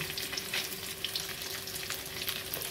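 Boiled potatoes fry in oil for a vegetarian banana-flower curry, a steady close crackle and hiss with scattered pops and no talk.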